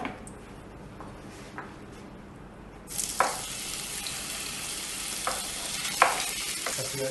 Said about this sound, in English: So we will sear the meat in oil and then cook it.